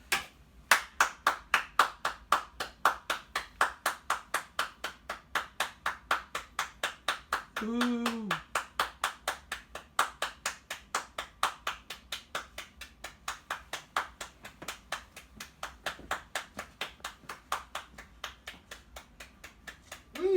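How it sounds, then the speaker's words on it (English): Steady, fast clapping at a TV-style talk show, with evenly spaced sharp claps running throughout, fairly close and dry, and a brief voiced exclamation partway through. "give a round of applause for Dr. Mantis Toboggan for being on the show"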